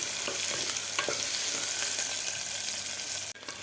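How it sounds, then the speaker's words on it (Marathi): Onion sizzles and crackles as it fries in a pan for a cashew and green pea pulao, a close, steady hiss with occasional stirring clicks, broken by a brief dip near the end. "कांदा सुद्धा आपल्याला व्यवस्थित फ्राय करून घ्यायचा आहे"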